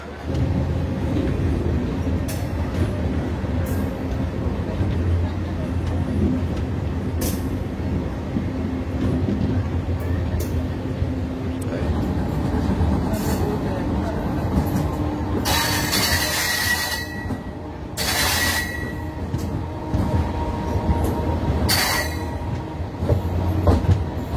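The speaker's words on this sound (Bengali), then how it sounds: "আমাদের এই পুরুলিয়া মেমু প্যাসেঞ্জার চলে এসছে জয়চণ্ডী পাহাড়" Purulia MEMU passenger train running along the line, a loud, continuous rumble with rhythmic clickety-clack of wheels and occasional sharp metallic squeals and hissing bursts, heard from on board.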